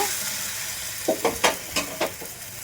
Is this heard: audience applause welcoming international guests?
no